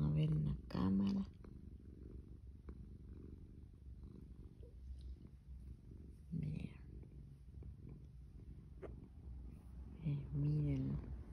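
A pet cat purrs in a soft, continuous low rumble held close by, while someone speaks quietly in Spanish in short bursts over it.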